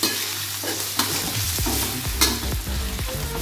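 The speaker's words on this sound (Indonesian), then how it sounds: "ditumis sampai dia benar-benar matang" Food sautéing in a pan until fully cooked, a steady broadband sizzle with repeated utensil scrapes and stirring clatter close by, no voices.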